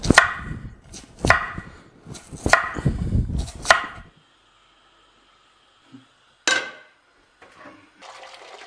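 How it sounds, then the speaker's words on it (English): A knife chops starchy tubers on a board in four or five crisp, evenly spaced strokes before a quiet pause. One more chop follows, with faint background noise. "we'll chop them up smaller and then we'll put them in some boiling water"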